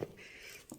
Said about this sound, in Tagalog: May maririnig kang mga tunog ng ibon.